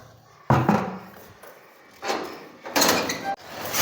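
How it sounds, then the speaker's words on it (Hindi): A noisy door being opened gives several loud bursts of scraping and rattling separated by short pauses, close by, with a sharp knock near the start. "ये दरवाज़ा कितना आवाज़ होता है।"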